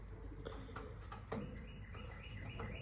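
Young pigeon hen, a 2025 baby, giving soft repeated chirps and squeaky peeps close by, with low handling rumble and light background noise.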